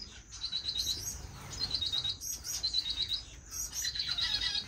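Parrot finches chirp in an indoor bird room, with short, high, repeated bursts of calls coming in several clusters over a soft background hum and no voices.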